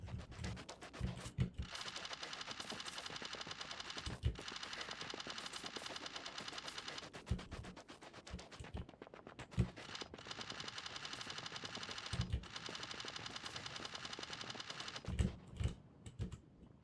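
Rapid automatic gunfire from gun turrets in a video game, long sustained bursts of fast rattling shots broken by short pauses and a few heavier thumps, loud and continuous with no talking.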